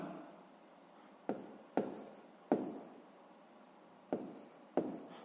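A pen or pencil writes a math answer on paper with six sharp, close scratching strokes at uneven intervals, each fading quickly, over a faint room hiss.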